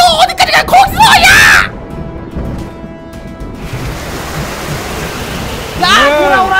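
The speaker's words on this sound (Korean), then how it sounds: "엄청 파도가 크게 치는 거겠지." Large sea waves crash in a loud, rushing wash of surf that fills the gaps between children's excited shouts and cries, with voices returning over the roar.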